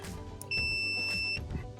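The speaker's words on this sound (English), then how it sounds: "We should hear a beep, and that means that the fuse is good." A continuity tester gives one steady, high electronic beep lasting about a second while probing a good fuse from an LG washer, close and clear over faint background noise.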